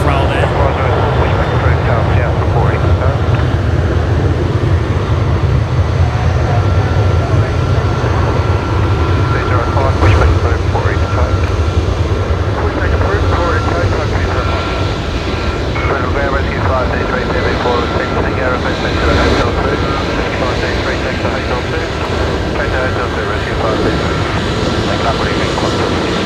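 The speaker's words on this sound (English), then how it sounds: "that there has Velocity 1404 going to Adelaide. They're just about to begin their takeoff roll there." Velocity airliner beginning its takeoff roll at Brisbane Airport, a loud, continuous engine roar heard from the field throughout, with people talking over it at times.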